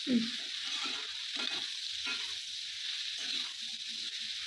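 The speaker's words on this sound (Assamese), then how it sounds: "তাতে এতিয়া নিমখ দিছোঁ, লগতে হালধি ভালদৰে লৰাই ল'ম আৰু।" Brinjal with salt and turmeric stirred in a frying pan: a soft continuous sizzle under repeated scraping strokes of a spatula, close and moderately quiet.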